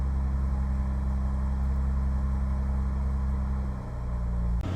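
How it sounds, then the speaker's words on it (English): A Jaguar E-Type engine idles evenly after warming up, a steady low rumble with a constant hum that holds for several seconds and dips briefly near the end. "you can hear the engine running correctly."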